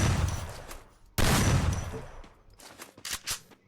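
Gunfire from Free Fire gameplay rings out in sharp bursts, first a dense volley, then a sudden loud blast and a rapid cluster of crisp shots near the end.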